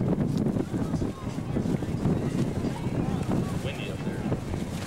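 Wind at an outdoor airshow blowing against the microphone, a continuous low rumbling buffet with gusty swells throughout.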